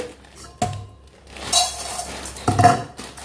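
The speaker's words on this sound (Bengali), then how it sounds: "এবার মুড়িগুলো সব শুদ্ধ নাড়বো নেড়ে মেশাবো" Puffed rice (muri) is stirred in a pan, making a few close metallic scrapes and clinks from a spoon against the pan between soft rustling, short and fairly loud.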